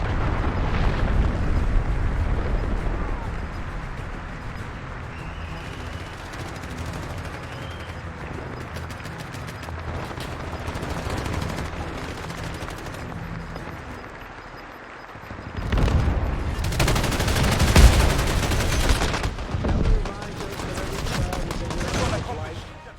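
Call of Duty battle sounds, with a long wash of distant rumbling and scattered gunfire and then a louder burst of explosions and rapid shots near the end, all running under someone speaking formally throughout.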